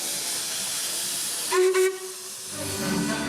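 A steam train vents a loud, continuous close hiss, broken by a short whistle blast of two quick pulses, with the steam hiss carrying on afterward.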